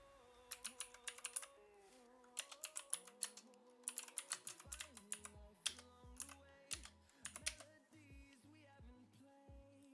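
Quick bursts of computer keyboard typing in short runs of clicks, sitting over layered electronic tones and a low rhythmic pulse of background music that fills the second half, with no voices.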